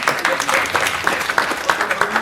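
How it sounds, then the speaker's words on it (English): Audience clapping at a Zetech University talk, a steady dense patter of many hands that swells and dips with a few sharper bursts, with faint crowd murmur and no clear speech. "so you clap at me."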